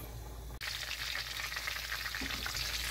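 Whole garam masala and curry leaves spluttering in hot oil in a large pan, a loud continuous crackling sizzle heard close up with no talking.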